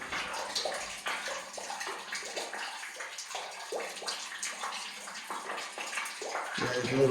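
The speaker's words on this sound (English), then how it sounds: "I think the water is just draining out of the pipe." Water drains out of an old, holed pipe at an antique barn well pump, a steady splashing trickle with irregular gurgling spurts, fairly close, with no talk.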